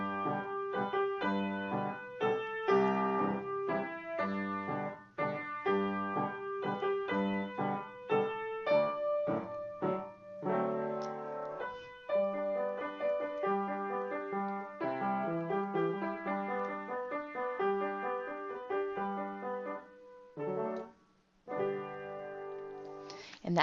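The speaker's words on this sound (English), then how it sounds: "Amazing Grace played with homophonic texture might sound something like this." Amazing Grace played on a keyboard in homophonic texture, the melody carried over accompanying block chords, a steady, moderately quiet performance running on alone without talking.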